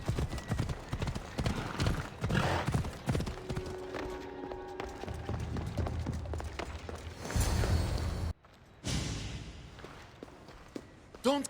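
Horse hooves clip-clop steadily at a walk in Assassin's Creed Odyssey, with a short whinny and faint ambient game sounds around them.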